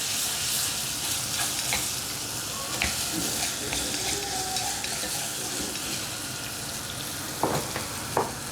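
Sichuan dan dan noodle sauce with soy sauce stirred and frying in a pan, a steady close sizzle with scraping stir strokes and a couple of sharper clinks near the end, no talking.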